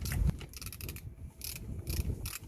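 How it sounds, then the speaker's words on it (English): A ratchet wrench loosening the 13mm front brake caliper bolts on a 2016 Toyota Verso 1.8, with bursts of quick close clicking separated by short pauses. "we're going to undo these 13mm bolts"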